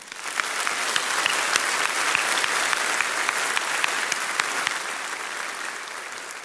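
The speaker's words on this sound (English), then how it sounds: "give a round of applause to the Peninsula Concert Band under the direction of Ronnie Tong Jr" A large graduation audience applauds a concert band, a full, dense round of clapping that holds steady and fairly loud before easing off slightly toward the end.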